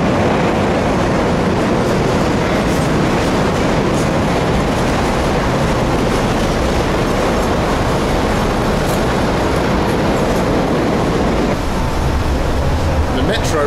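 An underground metro tram arrives at a station in Kryvyi Rih, Ukraine, a loud continuous rumble of wheels on rails filling the whole stretch, close and unbroken.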